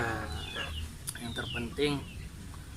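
Pelung chickens on a farm at an Islamic boarding school in Banyumas let out a long, wavering crow and scattered clucks in the background while someone talks over them.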